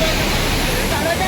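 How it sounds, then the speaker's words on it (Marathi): Water roars at the foot of Kalu Waterfall, a loud, constant broadband rush, with people talking close by over it. "दोस्तों वॉटरफॉल के नीचे"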